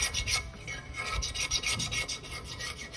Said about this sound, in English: Scrape the epoxy off the edge.